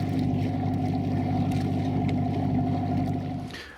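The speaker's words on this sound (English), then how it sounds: "just start the engine, just make sure we've got nice water coming out the exhaust at the back" A boat's inboard engine runs steadily, a loud, close, constant mechanical drone with a strong hum that eases off slightly near the end.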